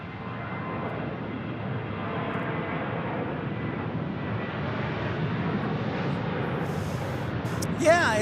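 Southwest airliner on runway 25 right at Phoenix Sky Harbor, a loud sustained jet engine roar building steadily, with a person talking at moments.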